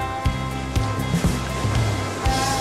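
Sea waves rocking a boat off Paleokastritsa, Corfu, with repeated splashes and thuds against the hull over the steady hum of the boat's motor.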